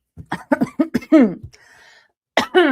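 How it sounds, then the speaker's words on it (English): A person talks briefly, a soft breathy cough-like burst follows in a pause, then the speaking resumes, all close and fairly quiet. "Not sure why I'm coughing."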